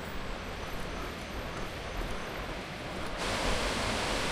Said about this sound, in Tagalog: Ayan na yung falls.